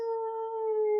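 A human voice imitates a dog howling in pain, one sustained, steady, tonal howl held for about a second, close and clear with no other sounds.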